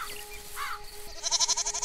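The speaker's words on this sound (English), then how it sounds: "there's a pig goat" A pig-goat creature in the cozy vampire farming game Moonlight Peaks gives a short bleat, followed by a run of rapid, pulsing goat-like bleats close up, with no talking.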